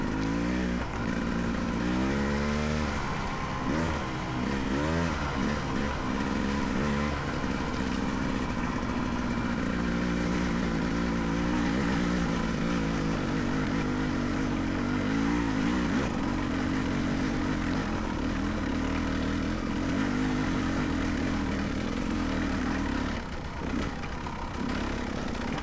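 A Beta 300RR motorcycle fitted with an OXA Factory Black Edition silencer is ridden, its engine droning continuously with rising and falling revs as the throttle opens and eases, loud throughout with no talking.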